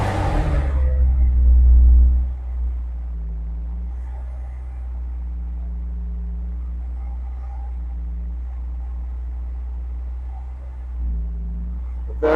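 A 1996 Porsche 911 (993) Cabriolet with manual gearbox starts from cold in a garage, a loud catch and low rumble settling into a steady, even idle that holds throughout.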